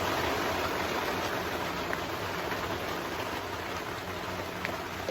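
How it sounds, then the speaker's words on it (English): Heavy rain pours down steadily on a garden, a dense, unbroken hiss of water that stays constant and close from start to finish. "Hopefully soon the rain will subside a little bit."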